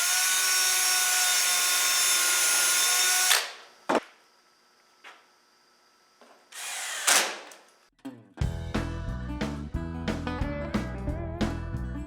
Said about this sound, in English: All one step, you drill it and put it in.